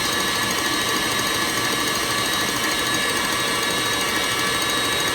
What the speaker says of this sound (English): We are using a heavy-duty stand mixer for this process.